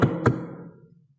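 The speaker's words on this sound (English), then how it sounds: "Suddenly there was a knock at the door." Two sharp knocks on a door, a quick double rap near and fairly loud, fading into a brief low resonance and quiet afterward.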